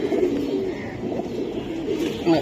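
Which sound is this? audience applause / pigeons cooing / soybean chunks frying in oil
pigeons cooing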